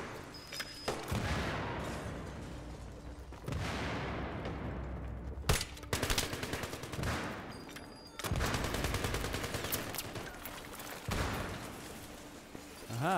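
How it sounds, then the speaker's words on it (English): Grenade launcher and gunfire in Battlefield 3, several sharp shots and blasts with decaying tails, spaced irregularly among other battle noise. "Now this grenade launcher only shoots normal grenades"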